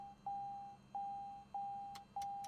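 Cockpit warning beeps in Microsoft Flight Simulator during aircraft shutdown, a steady high-pitched tone repeating in four long pulses over a low electrical hum.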